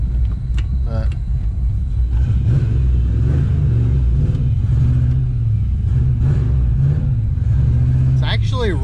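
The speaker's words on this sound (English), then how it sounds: "it's actually sitting here idling pretty decent" A car being inspected for the first time idles steadily with a low rumbling drone, close and loud, while someone talks over it.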